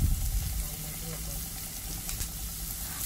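Shallots, curry leaves and green chillies sautéing in a pan, a steady close sizzle with faint stirring scrapes, loud at first and then evenly sustained.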